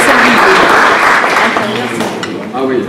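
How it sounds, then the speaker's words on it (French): Applause for an interior architect at a Guyanese food boutique event in Paris, a close, lively round of clapping mixed with overlapping voices and chatter. "on peut l'applaudir"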